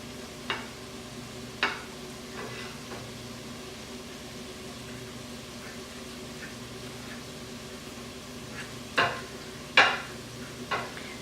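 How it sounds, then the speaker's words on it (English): Fork mashing cooled baked potatoes in a bowl for potato soup, giving scattered soft scrapes and taps that cluster near the end over a quiet kitchen background. "just mash the baked potato"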